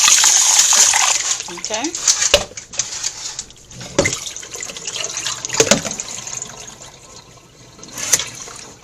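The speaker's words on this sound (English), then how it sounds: "you're going to wash it one more time" Tap water runs over goat meat as it is rinsed, a steady close stream with splashing and occasional knocks, while a voice speaks briefly over it.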